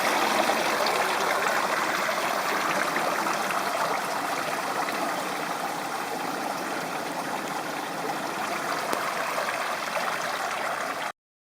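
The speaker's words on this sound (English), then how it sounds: "This video shows a sponge being sprayed with water as a test." Water sprays steadily onto a sponge inside a test tank, giving a loud, unbroken hissing rush with a trickling edge that holds even throughout, then cuts off abruptly at the end.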